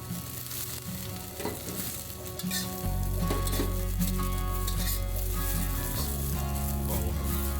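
Scallion tops and golden garlic fry in a hot wok with a loud, continuous sizzle. The sizzle intensifies partway through as scattered stirring scrapes continue close by, over a low steady hum.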